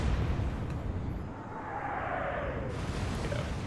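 Warship guns firing in the naval combat game Atlantic Fleet: a heavy, continuous rumbling roar with a rising whooshing sweep through the middle, loud and dense throughout, with no talk.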